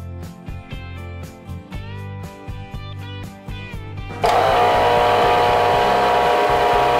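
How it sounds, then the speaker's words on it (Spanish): An electric mixer beats four eggs with sugar into a foam, switching on abruptly partway through as a loud, steady whirring roar that replaces the earlier music-like tones. "esto vamos a llevar a la batidora hasta que se me forme una espuma"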